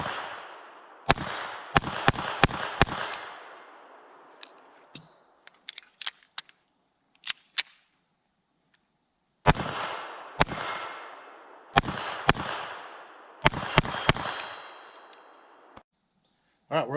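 A Beretta 3032 Tomcat .32 ACP pistol fires outdoors from a deck at targets about 15 yards away: sharp, cracking shots in quick clusters of several rounds, each with a short ringing decay, separated by quiet pauses.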